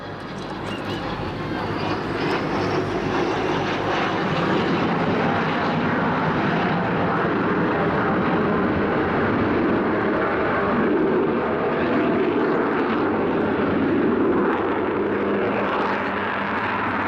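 Avro Vulcan XH558 bomber flying at the Southport Air Show, a loud sustained jet roar that builds and holds steady for many seconds as it passes, with faint crowd noise beneath.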